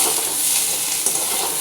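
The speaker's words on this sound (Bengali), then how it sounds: "পটলটাও বেশ লালচে করে ভাজবো" Chunks of pointed gourd sizzle steadily in hot oil in a pan for a fish curry, producing a brief, even frying hiss with a faint clink of a utensil and no voices.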